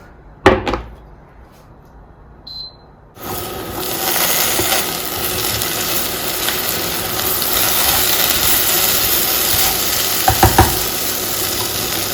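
Loud, steady sizzling of potatoes and carrots frying in a pan, beginning abruptly after a brief clatter and continuing without break; a few knocks near the end.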